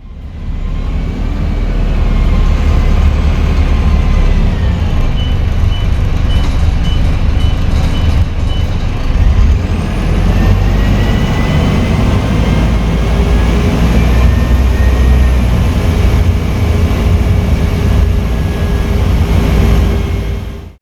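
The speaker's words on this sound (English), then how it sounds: "So I guess I'll be catching the bus home." Inside a bus on the ride home, a loud, steady engine drone and road rumble run throughout, with a faint repeating beep partway through and no talking.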